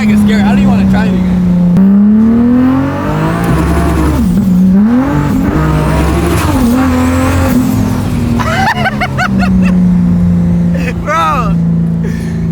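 A loud TRX truck engine with anti-lag revs and drops with harsh pops and crackles, roaring steadily at close range with voices and tire noise mixed in.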